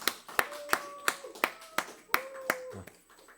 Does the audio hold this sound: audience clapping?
yes